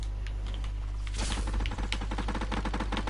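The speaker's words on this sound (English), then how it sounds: "SMG shots though. And AR shots." Video game SMG and AR gunfire, rapid rattling bursts of automatic shots that build into a dense, steady volley over constant background noise.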